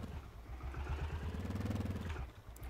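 A motorcycle engine in ARMA 3 putters and revs unevenly, with a rough mid-pitched chugging rising briefly then easing off, fairly faint and without talk.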